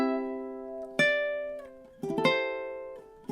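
Solo ukulele plucking measure 14 of the carol God Rest Ye Merry Gentlemen, a few ringing picked notes with a strummed chord near the end, close and clear with no voices.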